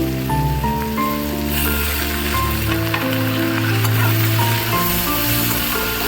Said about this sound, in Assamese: এতিয়া মই লোৱা মচুৰ দালিখিনি ইয়াতে দি দিম।